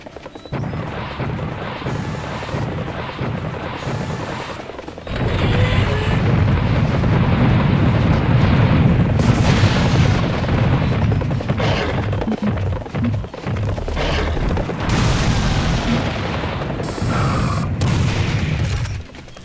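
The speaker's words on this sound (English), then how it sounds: "let's not get too close to those before they explode" Explosions and gunfire roar through a Serious Sam HD battle in the Serpent Yards, a dense, continuous wall of booms, crashes and rumbling blasts that swells louder midway and stays heavy throughout, with no talking.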